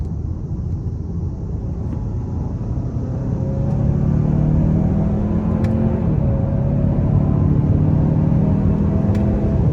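2024 Hyundai Santa Fe Calligraphy accelerating under manual paddle-shift control, heard from inside the cabin as a steady low engine and road rumble that swells louder partway through with rising engine pitch.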